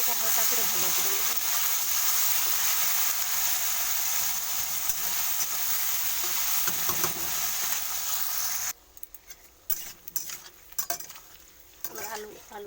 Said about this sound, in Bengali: আমার আলু আর কচুটা ভাজা হয়ে গেছে